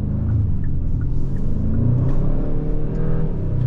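A 2023 Hyundai Sonata N-Line engine and exhaust accelerating, heard from inside the cabin as a steady, loud low rumble with a gently rising tone throughout.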